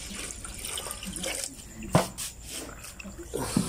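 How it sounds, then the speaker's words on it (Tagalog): Water is poured into a hot and cold water dispenser under repair and trickles out of its faucet in an uneven splashing stream, with a few louder drips and a voice talking over it. "buhusan natin ng tubig"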